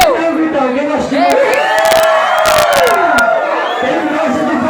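Party crowd at a social event shouting and cheering loudly together, a dense, close roar of whoops and yells that stays strong throughout.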